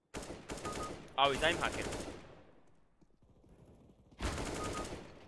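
Rapid automatic gunfire bursts from a CS:GO match, loud and close in two clusters with a dense rattling volley near the start and another at the end, while someone talks over the shooting.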